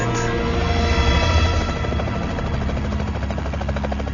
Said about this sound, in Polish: Minęła północ, gdy wreszcie dobiegł warkot pierwszego śmigłowca.